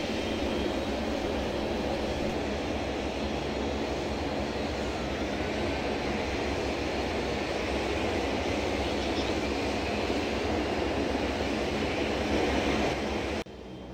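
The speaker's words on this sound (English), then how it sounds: "We'll initiate start sequence number 4." A Dash 8 turboprop in a flight simulator, with engine number 4 being started, gives a loud, steady engine drone that holds evenly for the whole stretch before dropping off abruptly at the end.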